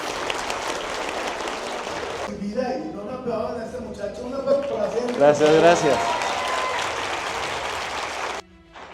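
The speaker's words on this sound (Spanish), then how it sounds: "Un aplauso para todos ustedes" Applause from a school audience at an educators' event fills the room, a dense wash of clapping under a voice speaking over it, before stopping abruptly near the end.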